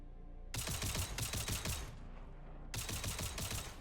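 Bursts of rapid automatic gunfire from the video game Jump Ship, two loud volleys of sharp shots separated by a short pause.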